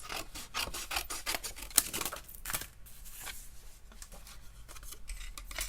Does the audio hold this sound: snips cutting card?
yes